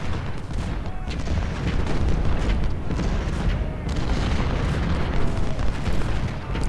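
Civil War artillery cannons firing during the Battle of Shiloh in Ultimate General: Civil War, a dense rolling barrage of overlapping booms and cracks, loud and continuous with no voices.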